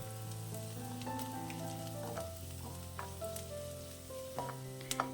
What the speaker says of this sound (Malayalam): ഇത് സവാള നന്നായിട്ട് വഴന്നു വന്നിട്ടുണ്ട്.